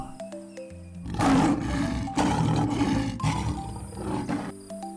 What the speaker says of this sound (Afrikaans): ken julle hierdie dier? Dis 'n leeu.